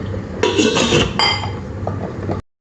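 A cooking pot lid is lifted off simmering yogurt chicken gravy, giving a few close metallic clinks and scrapes followed by soft bubbling.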